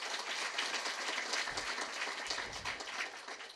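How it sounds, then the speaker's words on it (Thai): A meeting-room audience claps together, dense sustained applause from many hands filling the room, steady throughout with no voices on top. "ขอเสียงปรบมือให้กับตัวท่านเองด้วยครับผม"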